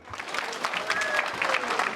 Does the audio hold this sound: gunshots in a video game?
no